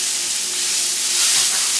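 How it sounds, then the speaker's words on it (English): A cup of onion sizzles in leftover frying oil that had been used for battered cauliflower, giving a steady, close hiss of frying that holds even through the whole moment with no talking. "now I'm going to put a cup of onion in the same leftover oil from which I removed the cauliflower"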